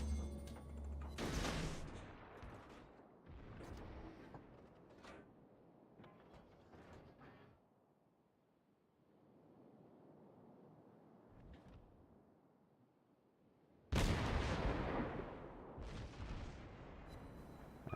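Japanese destroyer guns fire in a naval video game: two loud, booming blasts with rumbling tails, separated by a stretch of quieter mechanical noise.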